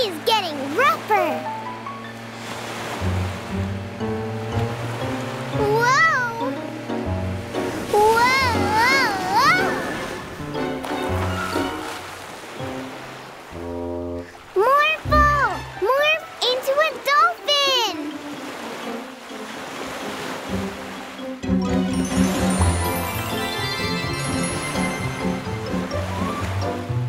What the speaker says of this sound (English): The sea is getting rougher.